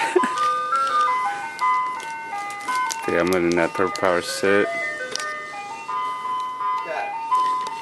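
A tinkly ice cream truck jingle plays continuously in the background while a person speaks briefly over it partway through.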